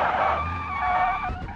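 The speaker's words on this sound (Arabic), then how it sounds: "في تفحيطة هون في نص الشارع." Car tires skid and squeal through a drift on a street in BeamNG.drive, a loud sustained screech with shifting pitch over engine rumble, close and continuous without pause.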